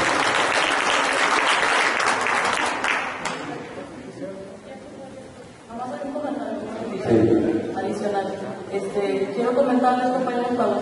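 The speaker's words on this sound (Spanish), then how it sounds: "Y pues un aplauso muy merecido porque nos despertó." Audience applause at a national lawyers' congress in Mexico, loud sustained clapping for about three seconds that fades as a speaker's voice takes over.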